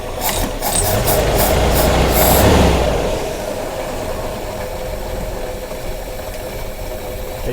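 A neglected carbureted Jeep engine revs hard for a couple of seconds, then the roar falls away as it stalls, leaving a steady low rumble and hiss. No one speaks.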